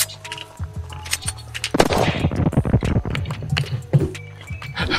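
Gunfire in the zombie survival game Unturned, rapid loud bursts of shots in quick succession over game sounds, with steady rhythmic thumps earlier.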